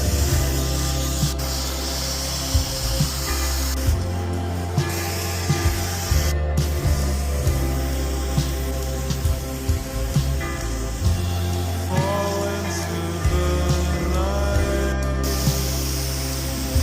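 Pressure washer blasting dirt off concrete in a steady, loud, continuous hiss with a humming motor underneath and brief dips where the spray shifts, with no talk.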